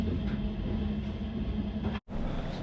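Steady interior rumble of an overnight sleeper train in Kazakhstan, a low continuous drone with a faint hum, briefly dropping out near the end before resuming.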